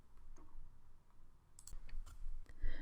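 A handful of soft, sharp mouse clicks in software, close and quiet over a low background hum, a couple falling near the end.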